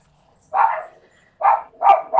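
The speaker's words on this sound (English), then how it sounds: "Dogs are about to bark." Several dogs bark in short separate bursts, one near outburst then two or three quicker barks after a pause, in a quiet room where someone is measuring and cutting material.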